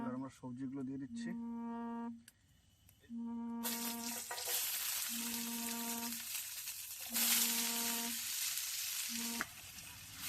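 Vegetables such as onion, tomato, carrot, chili and spring onion fry in a pan for pasta at a winter riverside campsite in India. A steady crackling sizzle builds and swells, with a sustained tonal hum running alongside.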